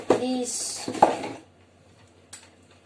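Pancake batter is mixed in a bowl with clinking utensil strikes against the dish, a few close knocks and scrapes while a person talks over the first part.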